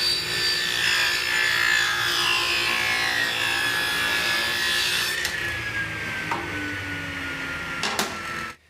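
A Ridgid 10-inch table saw with a low-tooth-count ripping blade cuts through thick wood stock. The blade's whine slowly falls in pitch over a rough, steady rasp, with a few sharp knocks near the end.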